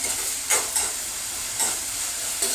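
Onion cooks in a pan with a constant soft sizzle and hiss, broken by a few brief stirring scrapes; close and steady, with nobody talking.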